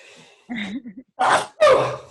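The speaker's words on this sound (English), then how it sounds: "excuse me, I'm about to sneeze." A single person sneezing in a talk setting, a short breathy intake and strained voiced sounds building to two sharp, loud bursts close to the listener.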